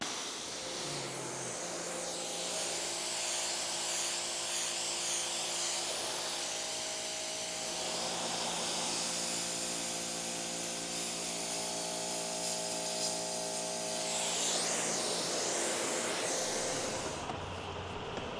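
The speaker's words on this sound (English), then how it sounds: "we have the pressure washer here. So let's get the shop cleaned out now." A pressure washer runs steadily in a shop, giving a loud, continuous hissing spray with a droning motor tone that shifts slightly as the jet moves across surfaces, then cuts off at the end.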